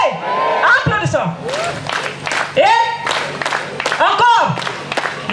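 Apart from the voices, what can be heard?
audience applauding and clapping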